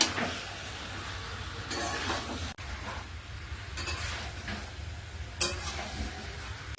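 Chicken and potatoes being sautéed in a pan for a thin home-style chicken curry, a steady close sizzle with scraping stir strokes swelling and easing through the stretch, with no talk.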